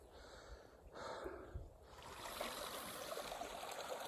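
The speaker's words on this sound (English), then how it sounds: "All right, I got down to this creek." Chilly creek water flows and trickles steadily along a desert hiking trail, a soft, continuous outdoor rush that grows a little fuller partway through, with faint breathing close by.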